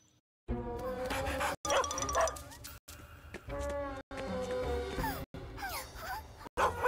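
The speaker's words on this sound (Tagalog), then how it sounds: "Isang aso na serbisyo!" A cartoon service dog barks in a string of sharp, loud yaps and whimpers, about half a dozen bursts separated by short silent gaps.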